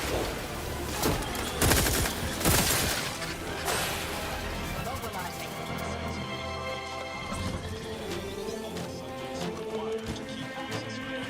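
Dense gunfire and crashing impacts in a battle from The Outer Worlds 2, heaviest in the first few seconds, then a lingering din of combat sounds; a voice speaks amid the noise.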